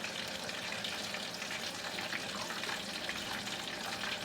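Butter melting and sizzling in a pan before garlic goes in, a faint steady crackling hiss running evenly throughout without pauses or talk.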